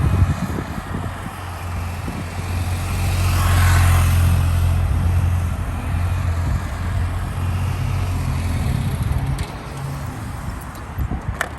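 A motorcycle ridden faster while the rider drags a knee through corners, its engine a continuous low drone that builds to a louder swell midway before settling back to a steady hum.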